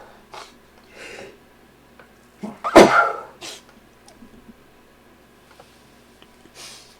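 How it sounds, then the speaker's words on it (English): A person sneezing during winter in Canada, a loud explosive burst near the middle surrounded by quieter sniffs and breathy bursts in an otherwise quiet room. "sorry about those sneezes"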